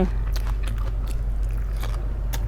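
Raw krachiao (siam tulip) flower is bitten and chewed up close, with several crisp crunching bites over a low steady background hum and no talking.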